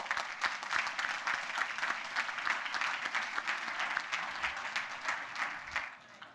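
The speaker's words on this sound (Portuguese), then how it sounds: "E acho que por isso merecem uma salva de palmas." An audience at a marketing conference claps steadily for about six seconds, a dense room full of hands with individual claps audible, fading out at the end.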